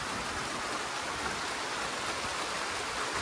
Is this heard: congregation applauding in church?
no